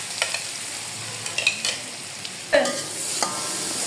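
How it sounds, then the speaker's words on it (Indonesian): A spice paste being sautéed and stirred in a pan until fragrant, a light steady sizzle broken by several scraping strokes of the spatula, close up, with no voices. "Kita tumis sampai matang atau sampai harum ya teman-teman"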